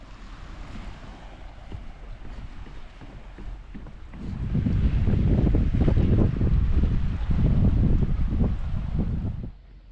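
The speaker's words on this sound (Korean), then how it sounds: "쉴 새 없이 몰아치는 파도 소리를 온전히 즐기며" Ocean waves crash and wash continuously along the Blue Road coastal trail, a former military zone beside rocky shores. Wind buffets the microphone throughout, and the surf swells noticeably louder and rougher midway before easing off at the end.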